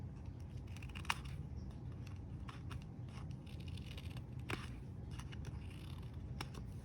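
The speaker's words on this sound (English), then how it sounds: "we could just do that with these little scissors here" Small scissors trim a piece of paper card, with a few sharp snips and light paper rustles scattered over a low room hum, close and quiet, no voices.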